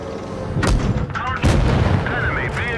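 Tank cannon fire in World of Tanks: two heavy booming shots land about a second apart, each followed by a rumbling tail and metallic game effects, with faint voice chatter beneath.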